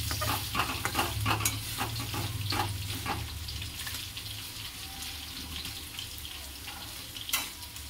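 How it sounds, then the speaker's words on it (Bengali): Food sizzles steadily in a pan while a utensil scrapes and clatters in uneven strokes, with some watery background noise. "এইভাবে নেড়ে দেবো। আর ঢাকা দেবো না, এরপরে এইভাবে ভাজা হতে থাকবে।"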